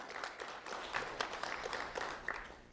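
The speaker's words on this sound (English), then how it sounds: "Round of applause for Leonette Jimenez," Applause from an audience at a sheriff's office award ceremony as an elementary school student is honoured, steady moderate clapping from many hands, slightly distant and continuous throughout.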